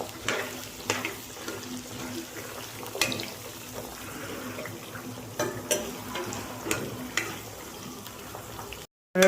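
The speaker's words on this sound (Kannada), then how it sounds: "ಹೆಂಗೆ ಬೆಳ್ಳುಳ್ಳಿ ಹಾಕ್ಕೊಂಡು ಈ ಥರ ಎಣ್ಣೆಯಲ್ಲಿ ಕರಿಬೇಕು." Crushed garlic fries in oil in a pan, a steady low sizzle with scattered scraping stir clicks and clatter, close and moderate, without speech.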